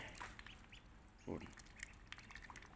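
Small ducks quacking in soft, scattered calls, with one louder burst partway through over faint background noise and some talk.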